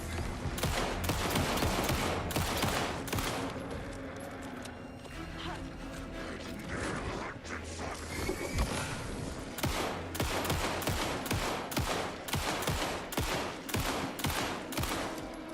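Rapid bursts of gunfire in a horror action game set in the town of Bright Falls, dense repeated shots over a busy mix of game sound with a voice talking in places.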